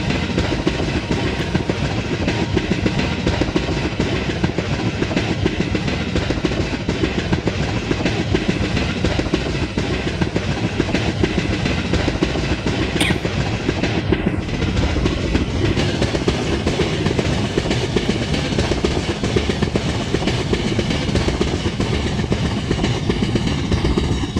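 Chennai–Nizamuddin Rajdhani Express running at about 90 km/h, heard as a loud, steady roar of wheels and rail noise with a continuous rhythmic clatter all the way through.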